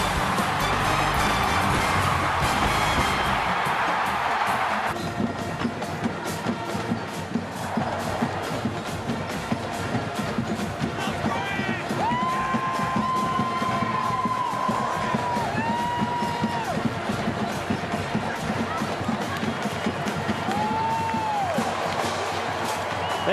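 A sellout stadium crowd roars in the NCAA Football 2011 video game, a dense, sustained wall of cheering and whooping that stays loud throughout, with whistling tones rising over the din in the second half.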